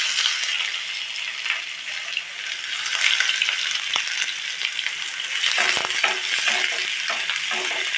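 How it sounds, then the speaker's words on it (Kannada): Green chillies, onions and curry leaves fry in a pan with a steady close sizzle, broken by occasional stirring scrapes and small clinks across the whole stretch, with no voices. "ಈರುಳ್ಳಿ ಎಲ್ಲ ಫ್ರೈ ಆಗಬೇಕು"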